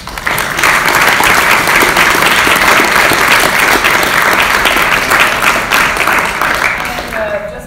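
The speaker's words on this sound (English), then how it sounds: "I'd like to give a round of applause to everyone that was here tonight" Loud, dense audience applause follows student Pecha Kucha presentations at Kent State University's College of Architecture and Environmental Design, continuing for several seconds before tapering off near the end.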